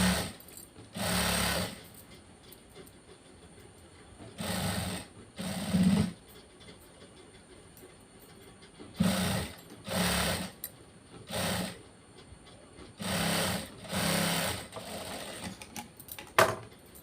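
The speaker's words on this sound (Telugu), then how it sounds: "ఫ్రంట్ సైడ్కి టర్న్ చేసిన తర్వాత దీని ఎడ్జ్కి ఒక కుట్టు అనేది వేసుకుంటూ రావాలి." A sewing machine runs in repeated short bursts as it stitches along the edge of a prince-cut, back-open blouse, each whirring run lasting about a second with quiet pauses between them, close and clear.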